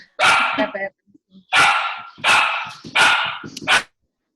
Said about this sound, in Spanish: Perdón, mi perra.